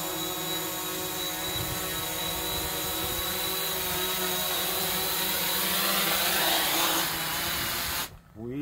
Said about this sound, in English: We actually made it on the landing pad.